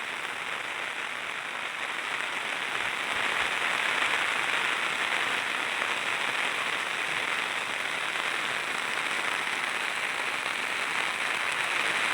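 Heavy monsoon rain pouring down over flattened rice paddy fields in a village near Trimbakeshwar, a dense, steady roar of hiss with no break, close and loud throughout.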